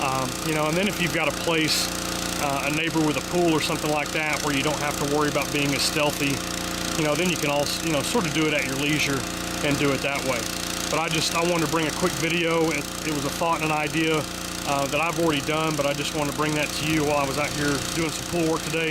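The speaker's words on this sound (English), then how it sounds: "Once again, I apologize for the engine noise" A nearby engine runs continuously during outdoor pool work, its rough, pulsing drone steady from start to finish beneath someone talking at length.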